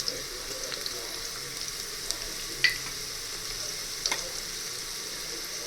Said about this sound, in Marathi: आलं आणि लसूण ॲड करणार आहोत। तर छान असं थोडं भाजून घ्यायचं।